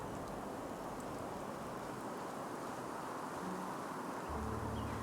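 Steady, dense rain hisses evenly throughout in the video game Enderal, with no speech over it.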